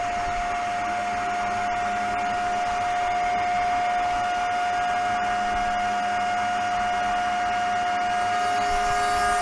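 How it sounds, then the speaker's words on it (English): A CNC 4040 router runs a toolpath through a piece of uneven timber. Its steady high spindle whine and busy cutting noise carry on close and loud, with faint ticks, over a running vacuum and no speech. "And then we just start the toolpath."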